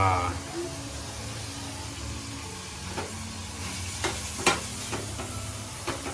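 Soybean curry sizzling and frying in a pan while a spoon stirs it, with steady hiss and several scraping clinks; a voice talks quietly over the cooking.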